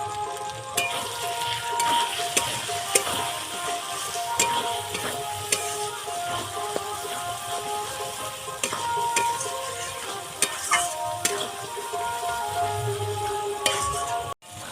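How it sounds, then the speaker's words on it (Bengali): Mutton curry pieces stirred and fried in oil with spices in a pan, a steady close sizzle broken by repeated scraping clinks of the spoon against the pan, with no talking. "মাংসটা ভালোভাবে তেল ছাড়িয়ে নিয়েছি মশলা থেকে তেল ছেড়ে গেছে"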